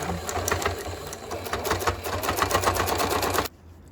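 A domestic sewing machine stitching a seam on baby diaper cloth under a lowered presser foot: a fast, steady mechanical chatter of needle strokes over a low motor hum, running continuously before stopping abruptly, no talking.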